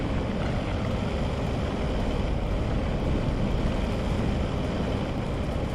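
A mining drill on a capital vessel in Empyrion: Galactic Survival bores downward with a steady, loud broadband roar that holds unbroken and even from start to finish.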